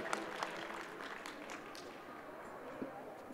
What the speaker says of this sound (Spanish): Y nuevamente un fuerte aplauso a este equipo que recibe mención honorífica por la calidad de su proyecto